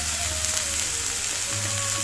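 Chopped tomatoes tipped into frying eggplant in a pan, a loud dense sizzle that fills the whole moment, close by with no voices.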